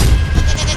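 A goat bleats once, loud and close, in a short, harsh, wavering cry with no talking around it.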